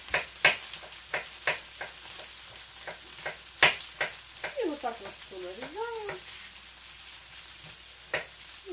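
Potatoes fry in a hot pan and get stirred, giving a soft sizzle broken by repeated sharp scraping clicks of the utensil, with brief talk over it.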